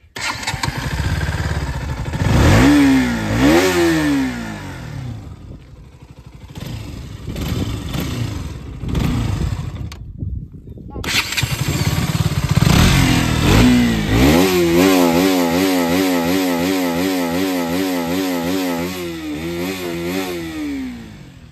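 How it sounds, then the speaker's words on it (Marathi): A KTM RC 200 motorcycle engine starts and revs loudly up close, with sharp rising throttle blips, a pause, then sustained high revving. "मित्रांनो आता आपण आपली बाईक कशी वाजते ते आपण एकदा चेक करू"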